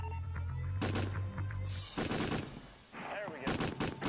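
A military ship's deck gun firing at a target, with several sharp, loud shots and rumbling blasts under radio chatter and voices.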